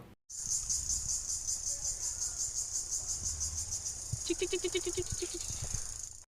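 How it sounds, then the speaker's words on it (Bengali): Crickets chirping in a village during an Eid holiday, a steady fast pulsing trill close by and loud throughout, joined partway by a second, lower, rapid chirping run. "চারপাশে জিজি পোকার ডাক চিক চিক করে খালি ডাকতাছি"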